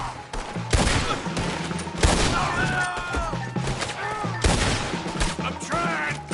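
Gunfire bursts in Red Dead Redemption 2 during a wagon shootout, repeated loud cracks and volleys layered over game music and shouting voices.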